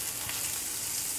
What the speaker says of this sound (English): that gorgeous, gorgeous onion, sausage, frying in the pan on a relatively low heat